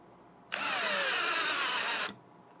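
A power drill on high speed drives a screw, one steady, close whine lasting about a second and a half with a sharp start and stop and no voices.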